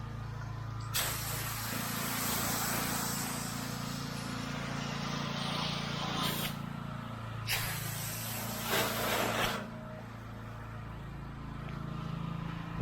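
Pressure washer spraying house wash onto a house, a continuous loud hiss with the spray cutting in and out in short bursts over a steady low engine hum.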